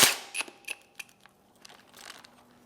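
Sharp metallic clanks and clicks from a 19 mm wrench, with a 9 mm wrench holding the top, loosening a strut nut on a 2007-2013 Acura MDX; a loud initial clang followed by several lighter taps and ratcheting clicks, close up.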